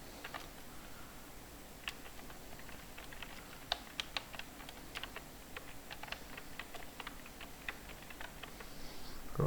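Keys on a computer keyboard are tapped in a quick, uneven run as a command is entered. The typing is close and fairly quiet, with no talking.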